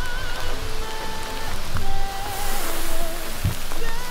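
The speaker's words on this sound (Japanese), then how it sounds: "すごい吹雪いてるけどね" Blizzard winds drive heavy snow outdoors in Nara, producing a loud, dense and steady hiss with scattered pattering and a few low thuds. No one speaks.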